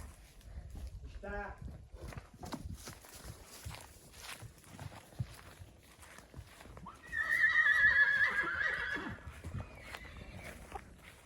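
A young foal neighs in one loud, drawn-out whinny lasting a couple of seconds, heard up close, with people talking around it before and after.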